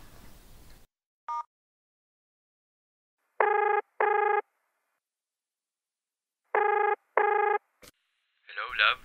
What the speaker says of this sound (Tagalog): Ay, try ko nga tawagan ulit.